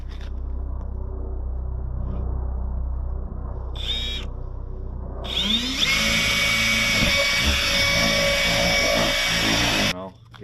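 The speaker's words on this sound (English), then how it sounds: "Now we gotta drill some holes in this piece of plywood here" A power drill bores holes in a sheet of plywood, whining loud and close for several seconds after a brief quieter lead-in with some background sound.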